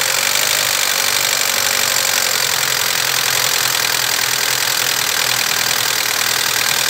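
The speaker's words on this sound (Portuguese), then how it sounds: "derrubando a lenta" A Chevrolet Vectra with an electrical fault runs at an irregular idle that keeps dropping, a loud, close, continuous engine drone with rough, uneven knocking texture and no talk.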